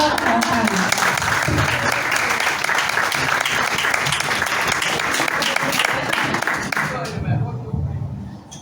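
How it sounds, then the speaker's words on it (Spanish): A crowd claps in loud, sustained applause that holds steady for several seconds, then quickly dies away near the end. "Así que aplauso"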